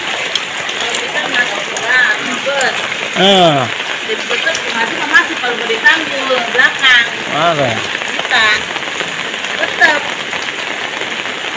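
Steady rain pours at night, a dense, continuous patter on surfaces close by, while people talk intermittently over the downpour.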